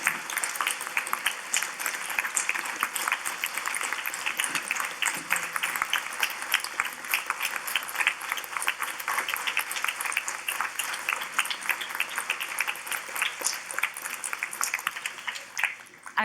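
A seated audience at a welcoming address gives sustained, even applause with many individual claps blending into a dense patter that carries on without a break for a long stretch before easing slightly at the end.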